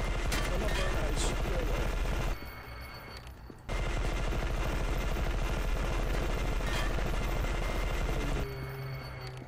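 Sustained automatic gunfire in the shooter E.Y.E: Divine Cybermancy, rapid and loud with rhythmic bursts, a brief pause near the middle, then resuming steadily until a short tail at the end.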